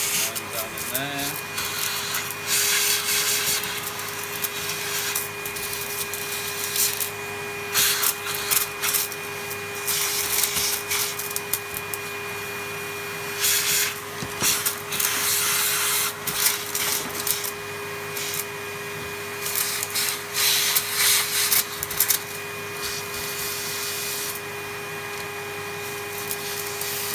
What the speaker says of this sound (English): so we've done some vacuuming